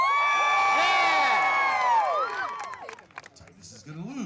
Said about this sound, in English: You cheer for Titus.